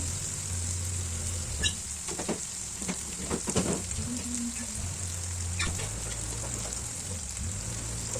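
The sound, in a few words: frying and stirring ingredients for egg dum biryani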